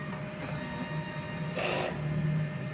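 A DTF printer works through a print head cleaning cycle, a steady mechanical hum with a brief louder whirring burst of the pump and carriage midway, close and alone with no talk.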